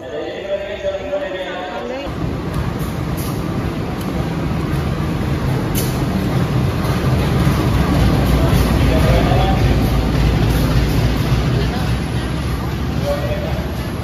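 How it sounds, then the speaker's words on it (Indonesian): The Kahuripan passenger train pulls in at Lempuyangan station, a loud rumbling rolling roar with steady mechanical hum building after a sudden onset, while platform chatter and voices mix in underneath. "Kereta api Kahuripan sudah tiba dan masuk di jalur 2 stasiun Lempuyangan"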